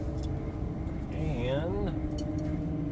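A Lamborghini Gallardo LP550-2 runs its engine from inside the car, a steady drone whose pitch rises and falls briefly with one upshift while people talk over it.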